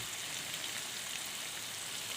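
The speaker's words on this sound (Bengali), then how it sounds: "এবার আমি পরিমাণ মতো জল দিয়ে দেবো।" Water pours steadily into a pan of sizzling fried spices for a red lentil curry, producing a soft, continuous hissing splash that is fairly faint and steady throughout.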